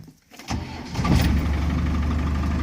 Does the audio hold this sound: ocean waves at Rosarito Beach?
no